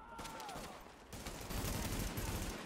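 Rapid gunfire crackles in The Division beta during a squad firefight, with repeated sharp bursts running together at a fairly low, distant-sounding level throughout.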